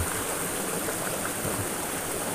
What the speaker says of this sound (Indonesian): Si cai-caina teh keluar teh tuh tina celah-celah gawir.